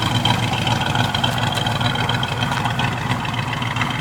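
A 1971 Chevrolet El Camino with a 350 V8 idles steadily close by, a low rumbling engine note that holds even and continuous throughout with no talking.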